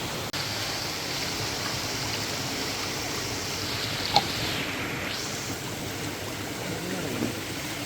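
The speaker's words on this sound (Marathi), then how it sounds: "जे पाणी येतं आहे हे त्या मोठ्या तलावमधून होतं आहे" Water flows steadily in from a large village pond, a constant rushing, broadband wash with no pauses, joined by one brief faint tick partway through.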